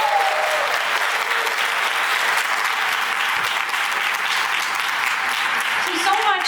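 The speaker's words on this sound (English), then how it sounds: "I think those kiddos need another round of applause." Steady applause from an audience at a Diwali celebration, sustained and fairly loud for the children who just performed, with a faint voice near the end.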